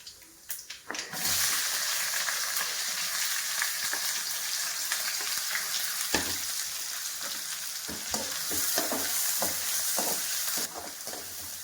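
Chana dal and curry leaves frying in hot oil in a pan for an okra stir-fry: a loud, steady sizzle runs throughout, broken by occasional stirring clacks.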